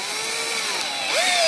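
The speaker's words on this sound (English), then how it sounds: "Now I'm using the 3/8 drill bit." Power drill turning a 3/8 bit into wood for model railway benchwork, a steady close motor whine whose pitch drops and then rises as the bit bites and catches, loud and alone.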